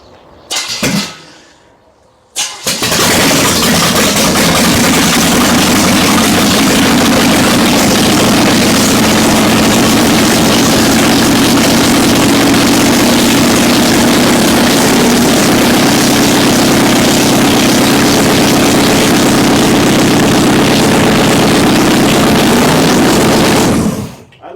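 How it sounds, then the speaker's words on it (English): An abandoned 1960 Chevrolet El Camino, revived after 40 years in the desert, fires up after a brief stumble and then runs loud and close at a steady, too-fast idle for about twenty seconds before cutting off. "Idling way too fast."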